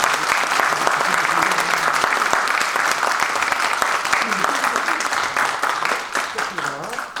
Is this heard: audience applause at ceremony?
yes